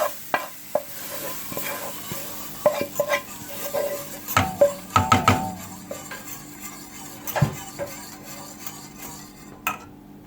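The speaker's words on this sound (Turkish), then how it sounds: "Çorbamızı bu şekilde karıştırmaya devam ediyoruz." A spoon stirs bulgur soup in a pot, with scattered metallic clinks and scrapes against the pot in an irregular rhythm over a faint simmer.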